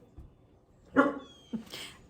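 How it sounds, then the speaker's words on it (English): A single sharp bark from a nearby dog, followed by a shorter yip moments later, in an otherwise quiet room. "Apparently we're gonna have some barking during this video"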